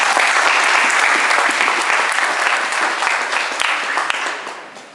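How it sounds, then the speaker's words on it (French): A church congregation applauds steadily, a loud, dense clapping that holds for several seconds and then begins to fade toward the end. "On peut acclamer le Seigneur."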